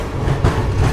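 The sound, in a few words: Krishna Express train running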